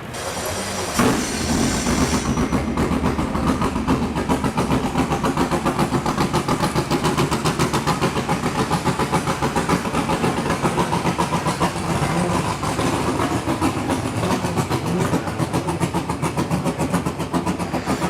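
A race car engine drives loud and steady around a Portland track, with a dense, continuous mechanical roar that holds at an even level throughout and no talk.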